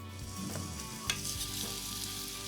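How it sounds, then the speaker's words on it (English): Tomato sauce simmering and frying in olive oil in a pan, a dense close sizzle holding steady throughout, with a brief clink near the middle and no voices. "I'm gonna cook the sauce, not all the way through"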